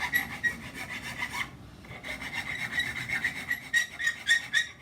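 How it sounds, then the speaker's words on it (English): Hand file rasping the burr off the edge of a threaded rod, in close, steady back-and-forth strokes with a brief pause midway. "what I want to do with this is just file off the burr on that edge"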